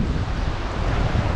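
Strong wind buffets the microphone beside the ocean at a sanctuary zone, a dense roar with low rumble mixed with surf, steady and close throughout.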